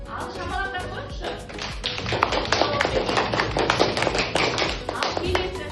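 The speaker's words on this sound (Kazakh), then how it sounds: "Ал, шапалақтап қойыңызшы." A class of third-grade children in a Kazakh-language lesson claps hands together, a dense, steady burst of many overlapping claps close by that lasts throughout.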